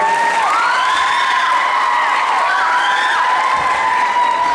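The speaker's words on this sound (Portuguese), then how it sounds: "uma salva de palmas para a Fátima" Crowd at a school graduation ceremony applauding and cheering for a teacher, loud continuous clapping with shouts and whoops from children mixed in throughout.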